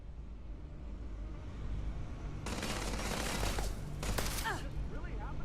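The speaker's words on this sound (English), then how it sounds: "Why am I getting shot at?" Bursts of gunfire in Starfield at a busy spaceport, with a long rattling volley followed by a shorter one over steady background rumble and bustle.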